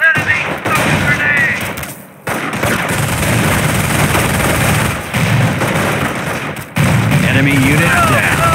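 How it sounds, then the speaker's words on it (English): Small-arms gunfire in the PC game Company of Heroes (2006) crackles in dense, loud bursts and rattling volleys. Brief pauses break it up, and soldiers' voices shout over the fighting. "Get down! Small arms fire!"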